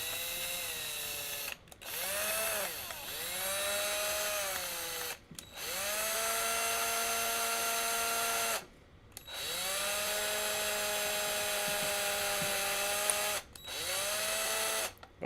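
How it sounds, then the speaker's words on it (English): Drill bit boring out a desoldering vacuum pump clogged with solder, a powered whine in four long bursts that ramp up and settle into a steady tone, each separated by brief pauses, close and loud with no talking. "I need to drill it out."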